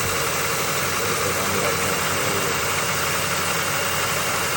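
A Range Rover engine with a blocked diesel particulate filter runs just above idle at around 1,300 RPM, a steady, continuous drone that holds evenly throughout without any revving.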